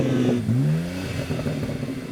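An idling BMW M car engine, a shared engine across models, blips in a quick revving rise and then settles back to a rumbling idle, close by, with no voices.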